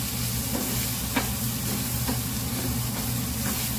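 Fenugreek (methi) leaves and potato mixture frying in a pan for aloo paratha filling, a steady low sizzle with soft scraping stirs at intervals.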